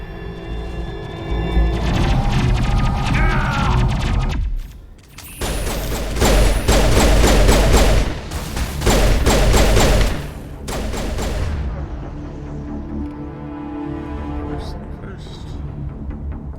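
Rapid gunfire bursts in the Mass Effect 1 Legendary Edition video game, loud dense volleys of shots punctuated by brief pauses, with a voice talking over the fighting.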